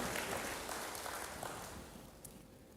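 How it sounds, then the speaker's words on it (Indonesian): A church congregation applauds, a dense spread of clapping that fades gradually toward the end, heard at moderate distance with no talking over it. "Yang percaya berikan tepuk tangan hebat bagi Tuhan."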